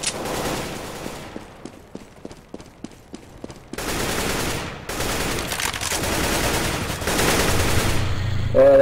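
Gunfire in CS:GO: a run of sharp, evenly spaced shots gives way to dense, loud bursts of rapid fire layered over a steady game background.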